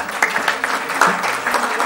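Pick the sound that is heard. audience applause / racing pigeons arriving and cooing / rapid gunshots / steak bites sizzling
audience applause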